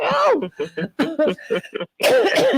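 Several harsh, bursty coughs close to the mic, broken by short pauses, ending in a louder fit of coughing.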